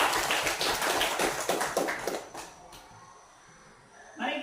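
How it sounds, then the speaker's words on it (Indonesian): Students in a classroom clapping their hands in a brief, fairly loud burst that fades out after about two seconds, followed by a quiet pause and then a voice. "Tepuk tangan dulu."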